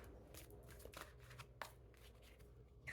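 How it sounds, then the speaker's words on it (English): A deck of tarot cards is shuffled by hand nearby, with soft riffling and slapping card sounds arriving in uneven bursts over a quiet background. "these cards suddenly got really wonky to try to shuffle"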